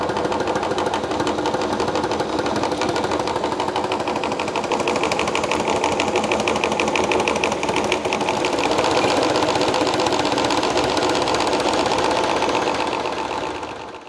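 Motor driving a swash plate mechanism at medium RPM, a loud, steady mechanical whir with fast rhythmic knocking and vibration, holding constant and fading slightly at the very end.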